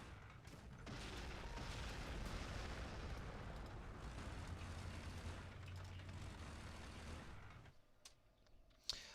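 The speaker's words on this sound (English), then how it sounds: "Did anybody call for an orbital strike?" Orbital strike explosions in Warhammer 40,000: Gladius roar as a long, dense rumbling barrage of blasts for several seconds, then fade into quieter clicks and a few sharp pops.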